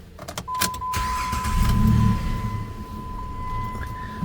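A car engine cranks and catches after a repair involving a $20 part for a P0507 idle fault, settling into a steady idle with a thin whine running through it; the start is close and moderately loud.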